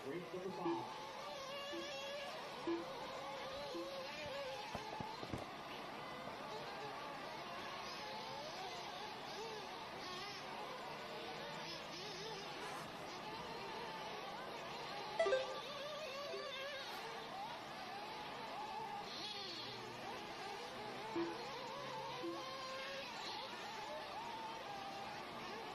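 Nitro RC buggies in a 40-plus class B Final at a state championship raceway, a steady distant buzzing drone of small engines that runs throughout, with a few louder passes rising briefly above the din.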